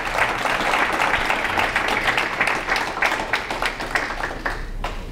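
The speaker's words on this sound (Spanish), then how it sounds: "Yo quiero que, primero que todo, le demos un aplauso a nuestro anfitrión principal, Pastor Elías Espinosa." Dense, steady applause from a church congregation welcoming the host pastor, many hands clapping close and loud throughout without a break.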